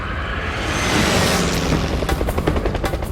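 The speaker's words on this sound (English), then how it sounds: "At Lukla, helicopters and planes land and take off on the same runway" Helicopter rotor noise roars loudly and close at Lukla airport runway, a broad rushing swell that breaks into rapid chopping blade pulses toward the end.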